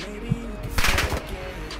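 Video game gunfire crackles in a brief, dense burst near the middle, with an isolated shot just before it and ambient game sound around it.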